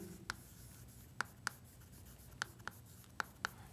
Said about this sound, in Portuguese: Então, vou escrever aqui, ó.